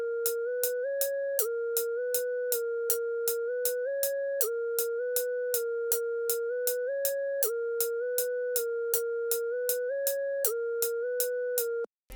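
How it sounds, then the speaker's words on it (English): A synth lead built in Serum, used for a trap-style track, plays a bright repeating pattern of short, evenly spaced notes that step between a few pitches, loud and alone with no voices. "Next up is another lead that was made in Serum, and it sounds like this."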